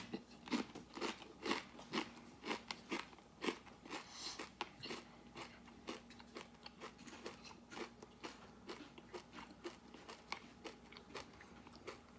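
Loud, close crunching and chewing of a Paqui One Chip spicy tortilla chip, with steady bites repeating through the whole stretch and no talking.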